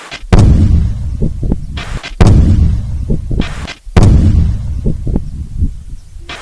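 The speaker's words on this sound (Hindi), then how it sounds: "सेना के जवानों ने धमाके के जरिए बम को डिफ्यूज किया है" Three heavy booming blasts from a controlled army bomb detonation, each followed by a long rumbling roll and debris, spaced a couple of seconds apart, loud and close.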